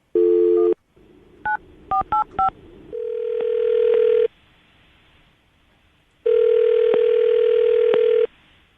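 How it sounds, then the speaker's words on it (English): A phone call: a dial tone, a quick run of keypad beeps, then long steady ringback tones separated by silence, close and clear, from a radio show studio. "I'm going to call her right now, see if we can get her on the phone"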